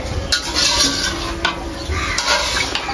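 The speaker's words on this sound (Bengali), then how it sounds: "এখন লবণ দিয়ে আবারও ভালো করে মিশিয়ে নেব।" A spoon scrapes and stirs through a pan of fish curry as salt is mixed in, with soft clinks of metal and a faint sizzle underneath, close and moderately loud.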